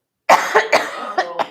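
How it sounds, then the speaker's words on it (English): A person coughs repeatedly in a short, loud burst of about five harsh hacks, close up, with small gaps between each, alone without talk. "Yeah, I did cough all day."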